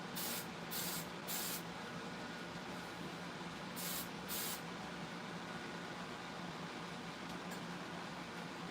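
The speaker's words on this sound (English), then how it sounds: "So let's hairspray it real quick." Hairspray hisses from an aerosol can onto a skinny tumbler being decorated with a rainbow swirl, in several short broadband bursts, near and fairly loud over a steady background fan hum.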